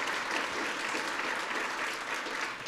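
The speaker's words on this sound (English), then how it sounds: "That's something y'all should be clapping about." Audience applause at a college inauguration and state of the college address, a steady, dense wash of clapping from a large crowd filling the whole stretch without a break.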